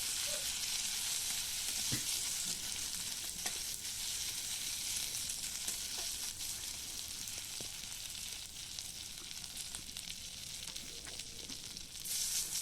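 Ginger garlic paste frying in a pan for a village-style egg curry, giving a steady, continuous sizzle with occasional faint clicks of stirring throughout, no voices.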